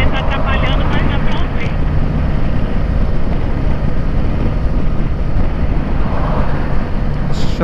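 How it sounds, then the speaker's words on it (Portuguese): Wind noise while riding a 2018 Kawasaki Versys 650 ABS Tourer motorcycle at 100 km/h, a loud, steady roar of rushing air that fills the whole clip without letting up. "Eu vou colocar aqui 100 por hora para ver o barulho do vento, como é que fica."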